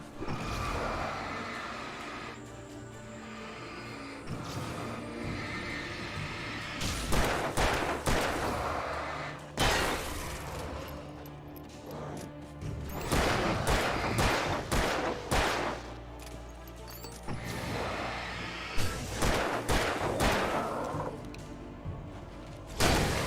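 Pistol gunfire in the Alan Wake Remaster game on the hardest difficulty: a dense stretch of loud, sharp shots, fired in rapid clusters and separate bangs. Thuds and whooshes fill the gaps between them, and no one speaks.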